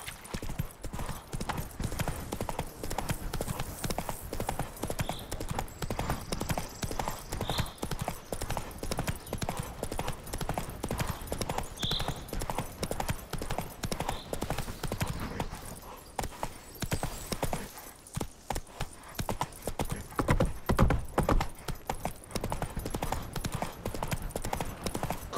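Roach the horse galloping in The Witcher 3, a rapid, continuous clatter of hooves that runs steadily for the whole stretch, with occasional snorts and a brief whinny.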